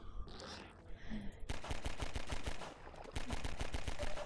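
Rapid bursts of gunfire in Half-Life 2, with dense repeated shots starting sharply midway and continuing loud and close, following a quieter stretch of game ambience.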